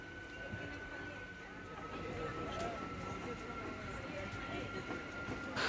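Secunderabad to Warangal MEMU train pulling away from Cherlapalli station, a steady low rumble of the moving carriages with a faint whine running throughout and a sharp rise at the very end, heard from inside the train.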